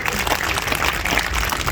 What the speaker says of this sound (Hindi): सी ताली बजा लीजिए।